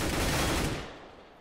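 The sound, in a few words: gunfire in Counter-Strike match on Cache (video game)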